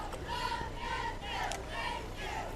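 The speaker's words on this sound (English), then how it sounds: "Good crowd out here tonight." Crowd in the stands at a night high school football game, Southern Lee against Seaforth, chanting and cheering in rhythmic swells, a dense steady roar heard from some distance with no clear single voice.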